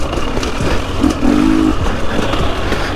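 A 2023 KTM 250 XCW dirt bike engine shifts up into third gear, a steady rough engine drone with a brief rising tonal whine in the middle, loud and close throughout.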